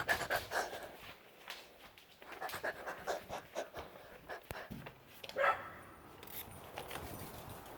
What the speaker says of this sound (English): Oh my gosh, my dog's going crazy.